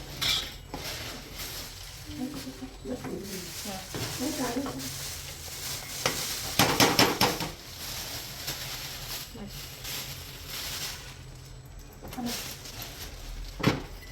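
Ground edible gum being stirred into oil in a wide pan for methi and jaggery laddu, with scraping and clinking of a spoon against the vessel throughout, a few louder clanks, and voices talking in the background.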